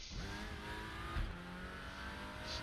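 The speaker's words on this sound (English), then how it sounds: "it's got really nice sound to it. It's got a bit of a crackle on the thing, the exhaust" A Lynk & Co WTCR touring race car in a sim-racing game at Monza, its engine droning at high revs with a crackling exhaust, a brief bump as it shifts, loud and continuous without speech.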